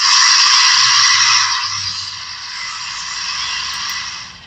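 A steady hiss of a Bachmann 4-6-0 model train's steam release sound effect through an upgraded speaker, loud and close at first, then easing slightly and continuing for several seconds.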